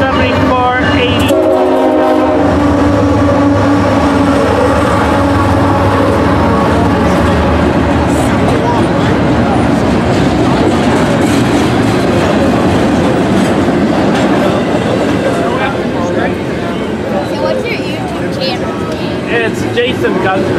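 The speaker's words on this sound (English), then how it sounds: "we got a surprise westbound freight coming in." A westbound freight train rolls loudly past at the Fullerton rail line, its horn sounding early and then a long continuous rumble and clatter of wagons, with people talking nearby under the noise.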